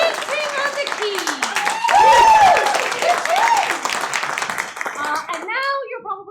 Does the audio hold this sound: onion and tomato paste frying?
no